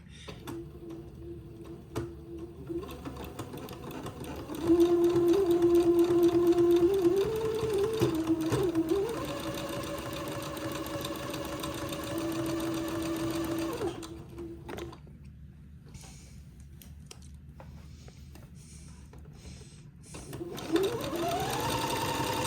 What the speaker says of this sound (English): I will proceed to do the second pass of the entredeux seam and zigzag it together